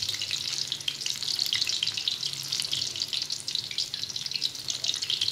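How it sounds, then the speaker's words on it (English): A pot of fluffy food boils on the stove with a steady, soft, hissing bubble that carries on without a break, heard up close and alone. "see how it's boiling?"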